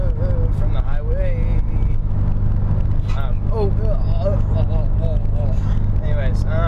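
Steady, loud low road rumble fills the cabin of a Subaru WRX STI cruising a highway at night, with a voice making wavering nonverbal noises over it throughout.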